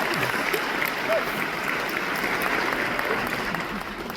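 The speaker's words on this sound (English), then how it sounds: "if we get another round of applause for the parents and guardians here today" A graduation audience applauds parents and guardians at a high school ceremony. The clapping is loud and sustained, with a crowd murmur underneath and no speech over it.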